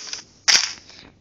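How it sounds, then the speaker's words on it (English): A C4 explosion in Minecraft Pocket Edition goes off as one sharp, loud burst that quickly dies into a short rumbling tail, after a few faint ticks. "Well, makes it a big explosion."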